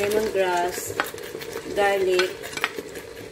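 Stirring pork green curry with coconut milk, lemongrass and garlic in a pot, a utensil scraping and sloshing through the sizzling mixture in repeated strokes while someone talks.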